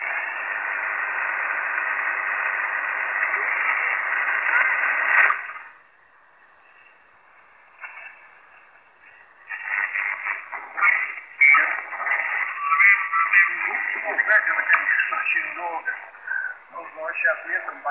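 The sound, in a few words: radio static noise on Tecsun PL-365 receiver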